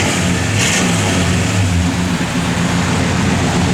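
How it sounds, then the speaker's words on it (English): A 1963 Plymouth Sport Fury convertible's engine revs loud and close in one steady, continuous roar with no pauses. "Good little revving."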